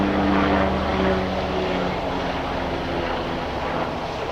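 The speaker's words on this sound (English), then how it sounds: "Rare sight for this area. Helicopter just flying by." A steady, continuous engine drone from an aircraft passing over a cemetery in daytime, loud and unbroken, with a low humming tone that gradually fades and no talk over it.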